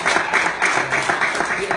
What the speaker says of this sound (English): I think we should give Barry and Al back there a round of applause for the repeaters